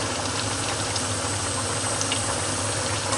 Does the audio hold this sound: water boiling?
yes